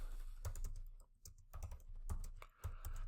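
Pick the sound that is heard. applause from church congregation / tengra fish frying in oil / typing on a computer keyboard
typing on a computer keyboard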